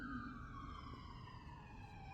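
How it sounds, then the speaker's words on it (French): Ambulance siren passing outdoors, a faint wailing tone sliding steadily downward in pitch over a dull, constant background rumble. "je suis dehors, puis il y a une ambulance qui passe"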